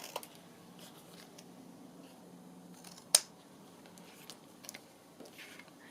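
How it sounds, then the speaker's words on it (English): Scissors cutting the corners of a ring-bound journal, heard as faint soft snips and one sharp louder click amid a quiet room. "Then obviously cut the corners."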